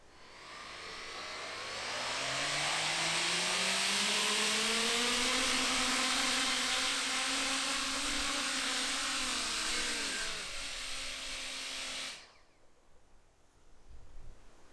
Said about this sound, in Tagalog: Unang pagsubok ng Coanda Effect drone.